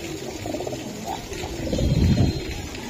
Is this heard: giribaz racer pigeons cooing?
yes